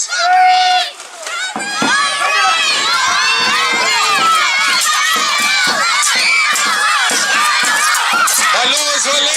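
A loud crowd cheers and shouts at an armoured sword fighting tournament, a dense wall of voices with high excited yells, sustained throughout after a brief quieter opening.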